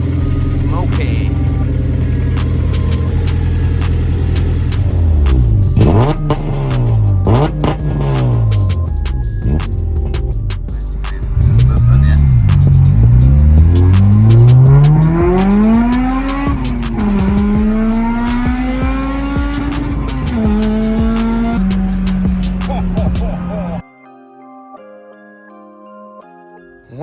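A Honda Civic EP3 Type R revs hard through a K-tuned oval three-inch cat-back exhaust. Loud, close engine notes swoop up and down through repeated blips and longer climbs, ending abruptly into quieter background sound; a voice may come through at points.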